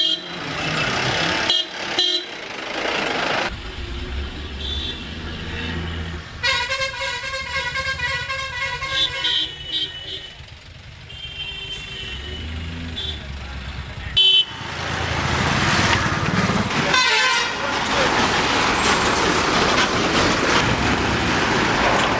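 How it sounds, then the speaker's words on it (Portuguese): Vehicle horns honk repeatedly through busy Indian road traffic, with toots and longer blasts over engine rumble and street noise, loud and close, while a voice talks at times. "Horn, please. Ou seja, é para buzinar mesmo,"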